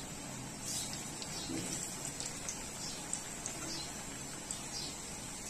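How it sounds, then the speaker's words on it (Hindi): Bread slices coated in gram flour (besan) fry in hot oil like pakoras, giving a steady, soft crackling sizzle with scattered pops throughout. "उसको आपने फिर फ्राई करना है जैसे आप पकौड़ों को फ्राई करते हैं"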